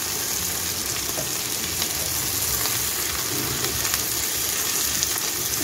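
Fish and chopped coriander leaves being stirred gently in a frying pan, giving a steady, close sizzle and hiss of frying throughout, with no talking.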